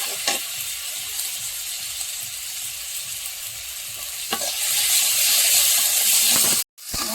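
Chopped onion and tomato frying in a pan: a dense, steady sizzle with an occasional spoon scrape, swelling into louder, hissier frying toward the end before a brief cut, with no talking.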